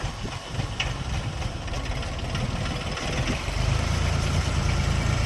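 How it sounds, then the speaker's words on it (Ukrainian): The three-cylinder engine of a Jinma 244 mini tractor on narrow tires idles close by. Its loud, rough diesel chug holds steady throughout and grows slightly fuller toward the end. "Завантажуємо джинму. 244-ту. Тракторець на вузькій резині, трьохциліндровий"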